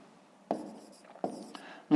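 Pen or pencil writing in a notebook during a fifth-grade maths exercise, with soft scratchy strokes in two short bursts and a sharper tap near the end, close and quiet.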